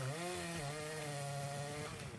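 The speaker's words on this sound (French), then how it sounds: "c'est pas de la camelote cette tronçonneuse" A chainsaw in an anime scene revs with a steady harmonic buzz that rises slightly in pitch, loud and close, with no talking.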